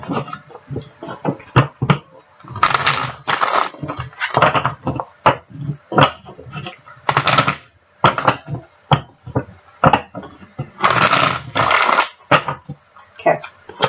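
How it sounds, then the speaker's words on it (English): A deck of tarot cards is shuffled at close range, with repeated riffling bursts and soft taps in an uneven rhythm, and no talking. "just do a quick shuffle here"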